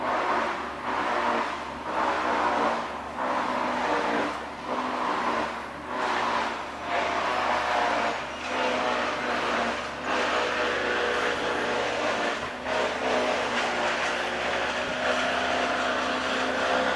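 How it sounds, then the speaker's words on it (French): Outdoor tree pruning work with chainsaws, a steady loud engine drone that pulses and revs in repeated surges, running continuously without pause. "je crois qu'ils sont en train d'élaguer"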